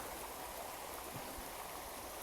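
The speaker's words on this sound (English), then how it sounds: "just listening to all the noise of the water" Water of Keckwick Brook flows steadily in a continuous, even rush, close by and fairly quiet, with no voices over it.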